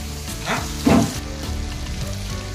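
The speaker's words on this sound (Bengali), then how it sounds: "হালকা যখন ব্রাউন কালার আসবে তখন আমরা আদা রসুনের যে পেস্ট করে রেখেছিলাম সেটা দিয়ে দেব" Ginger garlic paste hits hot oil in a pan, giving a steady close sizzle and frying crackle with a brief louder burst as it lands, then continuing fizz.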